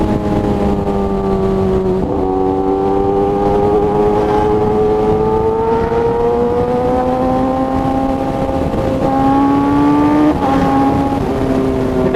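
A 2017 Kawasaki ZX10R sport motorcycle fitted with an SC Project exhaust, a quick shifter and an auto blipper, runs loud and steady, its engine pitch rising gradually through long pulls, with brief dips near two and ten seconds.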